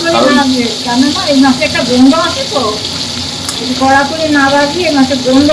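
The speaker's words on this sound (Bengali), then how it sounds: "মাছটা আমি ভেজে নিচ্ছি" Tangra fish frying in hot oil, a steady broadband sizzle running throughout, with a voice talking over it at times.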